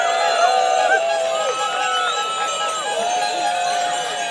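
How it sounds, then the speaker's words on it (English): A large crowd at the start of a kids' mass cycle ride in Redhill cheering loudly, with many tooting horns and whistles forming a busy chorus of warbling tones over the roar. "We need to have a big cheer together with any horns, bells, whistles you've got going"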